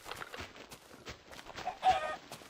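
Chickens in a video game cluck in short, scattered bursts, one louder call near the end, against a faint background of clicks and soft noise.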